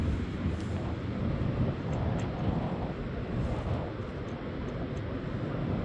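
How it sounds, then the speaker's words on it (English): Strong wind buffeting a microphone on the Blackpool seafront along South Walk, a loud, constant low rumble with gusty swells and no clear voices. "it's so windy"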